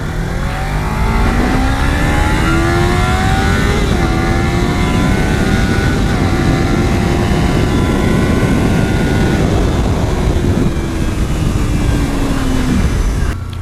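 Motorcycle ridden at night, engine droning loud and steady throughout with rising and falling pitch as it accelerates and shifts, heavy wind rush underneath.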